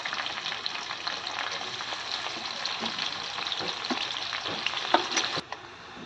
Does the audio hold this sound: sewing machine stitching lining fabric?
no